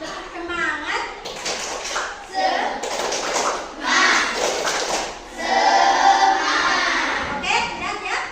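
A Grade 4 primary school class in Tolitoli performs tepuk semangat, bursts of rhythmic group hand clapping alternating with a teacher and children chanting and talking.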